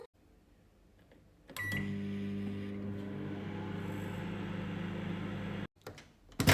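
A microwave oven heating sabudana kachri: a click and door thud, then a steady loud humming drone with tonal whine for about four seconds before it stops, followed by a clunk of the door.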